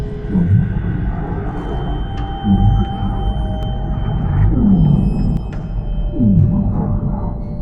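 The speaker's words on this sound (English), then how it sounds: "A deep, thunderous roar, powerful enough to be heard thousands of miles away." The Bloop, an unexplained deep-ocean sound recorded by NOAA: deep underwater rumbling calls sweep downward in pitch, repeating four times over a low, murky background rumble.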